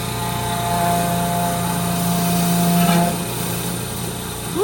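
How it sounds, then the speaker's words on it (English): A restored old gas pump's small motor runs steadily with a smooth, high engine hum and a whining tone, loud and close, dipping briefly before rising again at the end. "Well, let's turn this thing on and get her primed up and running. The motor sounds super smooth."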